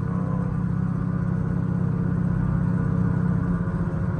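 Boosted Chevy Tahoe driving late at night, a steady low engine drone with road rumble holding at an even, fairly loud level throughout, no talking.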